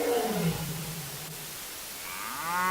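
A deep lion roar trails off into a low rumbling tone, then a bull's bellowing moo rises at the end, both loud and close, from the video game The Mystery Files of Detective Inaba.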